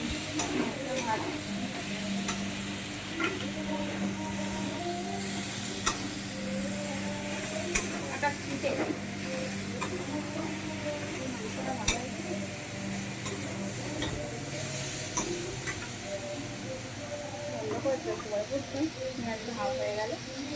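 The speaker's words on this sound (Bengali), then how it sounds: "আলুটা ভাজতে দিয়ে দিয়েছি।" Potatoes fry in a pan with green chili, a constant close sizzle and hiss broken by regular scraping clicks as a spatula stirs them, while a person talks over the cooking.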